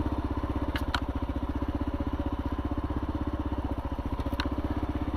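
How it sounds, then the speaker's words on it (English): A Kawasaki KLR650 motorcycle with non-stock gearing creeps along a single-track trail off the clutch, its engine thumping in a steady, even low pulse, close and continuous, with a couple of brief clicks and no talk. "I'm not touching the clutch. I'm just creeping through on this single track."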